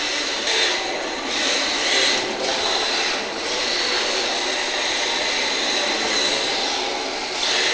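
An RC drift car's budget brushless motor with its ESC runs at full throttle, a close, bright whirring whine that rises and dips in short surges as the car drives around, with no talk.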